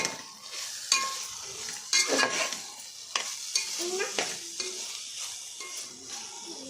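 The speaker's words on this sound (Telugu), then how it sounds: "ఇప్పుడు ఇందులో ఆలు వేసేస్తున్నాం." Potatoes tipped into sizzling masala for vegetable rice and stirred, giving a close, steady fry with scraping stirs and a few sharp clinks of the spoon on the pan, no voices.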